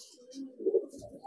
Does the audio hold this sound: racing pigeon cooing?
yes